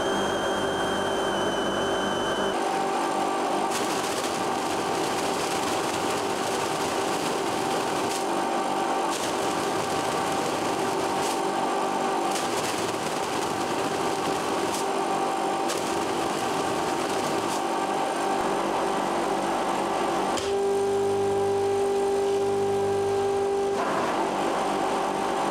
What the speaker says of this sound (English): next we're going to measure for the outlet for this blower